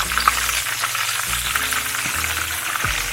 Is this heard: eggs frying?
yes